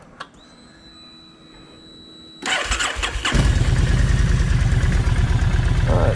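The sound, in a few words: Kawasaki Vulcan 1600 motorcycle engine cranking and starting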